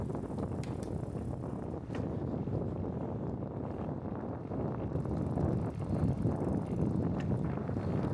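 Cold wind blows outdoors on a trail in Anchorage, buffeting the microphone with a steady, dense rush that swells slightly in gusts and continues throughout without speech.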